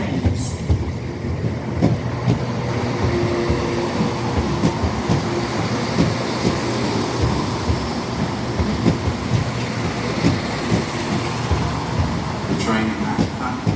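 A Southern passenger train rumbles steadily through London Bridge station, with continuous wheel-and-carriage clatter, rhythmic clicks over the rail joints and a low mechanical drone, fairly close and loud, with faint background station voices.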